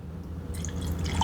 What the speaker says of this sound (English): So I'm just going to carefully put the water